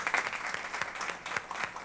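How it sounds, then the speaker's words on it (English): A brief, faint round of clapping at an aeronautics commission meeting, a small group applauding with uneven individual claps in a quiet room. "So I think we just need to give Paula a nice little round of applause for all the work that she's been doing."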